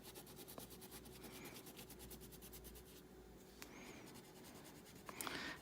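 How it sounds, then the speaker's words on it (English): Crayon rubbing on paper while coloring a sea turtle's shell, a faint, steady scratchy stroking that repeats in even passes, close up and quiet with no talking. "I'm using crayon instead of marker for the tortoise shell"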